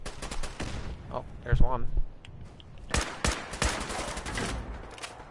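Enemy weapons firing in Fallout 4 on Very Hard, scattered shots and short bursts cracking around a nearby speaking voice.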